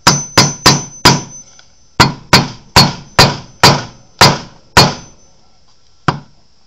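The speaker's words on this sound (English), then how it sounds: "I'm going to tap on this with a hammer." A hammer taps on wood in a quick series of sharp knocks, first four in a row, then a second run of six after a short pause, and one final strike, loud and close.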